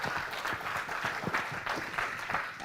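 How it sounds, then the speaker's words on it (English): Audience applause at a CityJS tech conference in Singapore, a steady wash of many hands clapping at moderate distance, fairly quiet overall. "and I think at that point, another big round of applause for Ty."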